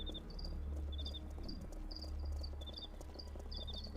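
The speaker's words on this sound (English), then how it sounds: "I hear crickets." Steady chirping crickets in the video game Temple of Elemental Evil, short repeated high trills in regular bursts over a constant low ambient hum, heard alone without talk.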